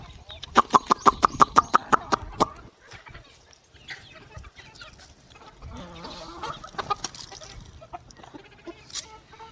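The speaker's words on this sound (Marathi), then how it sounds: "खडकनाथची आहे ही कोंबडी आहे" A quick run of about a dozen sharp rhythmic calls opens, then softer Kadaknath chicken clucks and murmurs follow with some talking in the background.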